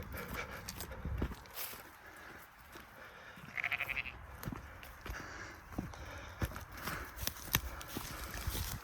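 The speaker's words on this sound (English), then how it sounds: "There's loads of sheep here" Sheep bleat by the River Wyre, with one clear wavering bleat standing out among soft footsteps and outdoor rustling, all faint and distant.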